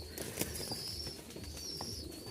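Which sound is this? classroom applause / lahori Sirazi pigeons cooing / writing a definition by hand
lahori Sirazi pigeons cooing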